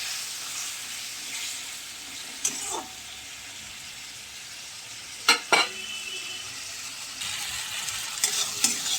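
Spiced masala with turmeric, salt and a splash of water sautéing in a pan, a steady sizzle broken by a few spatula scrapes and clanks against the metal, close and continuous.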